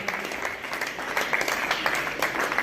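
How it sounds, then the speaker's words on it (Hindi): An audience at a Sirsa speech event breaks into applause, a dense, steady patter of many hands clapping at moderate distance throughout. "जोरदार तालियों से"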